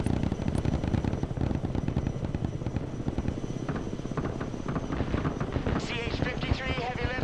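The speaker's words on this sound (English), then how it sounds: "CH-53 heavy lift helicopter here." Heavy rotor and engine rumble of a CH-53 heavy lift helicopter in the video game Broken Arrow, loud and steady throughout, with gunfire-like crackle and voice radio chatter layered over it.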